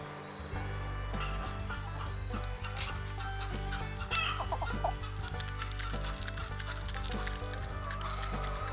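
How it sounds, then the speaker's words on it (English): Free-range farm chickens cluck steadily and close by, with several birds overlapping in a busy, continuous flock chatter and no talking. "Y'all look hungry. Y'all are good chickens."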